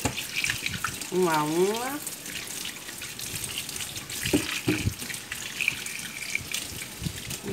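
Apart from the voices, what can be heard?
tap water running while washing mangoes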